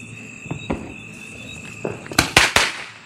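Diwali firecrackers go off outdoors: a few small pops early, then three loud, sharp bangs in quick succession near the end, over a steady background of insect chirping.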